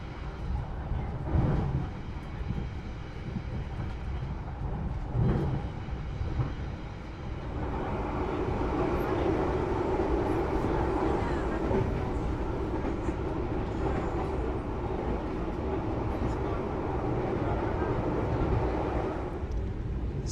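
A Banyubiru economy-class passenger train rumbles along its rails near Solo, Indonesia, heard from inside the carriage with a steady low drone that grows fuller partway through, with no talking.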